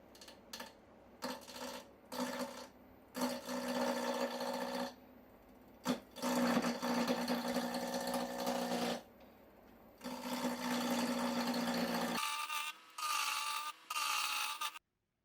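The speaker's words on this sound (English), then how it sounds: "I need to turn this square down to a cylinder." Wood lathe cutting a square wooden blank down to a cylinder, loud and close, with a rough, fluttering tool-on-wood drone that starts and stops repeatedly, then a higher, smoother tone near the end.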